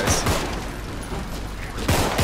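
Gunfire in the co-op zombie shooter Contagion, a short burst of rapid shots followed by another quick volley near the end, loud and close with no talk over it.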